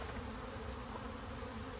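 Honey bees buzz in a steady, dense drone at close range throughout, a continuous hum from a hive opened for a summer inspection, with no voices over it.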